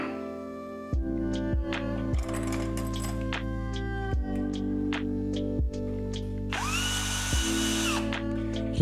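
A power drill bores a hole into a finished wall while a curtain rod is being mounted: a loud, close, whining drone with several short stops and restarts, and clinks between bursts.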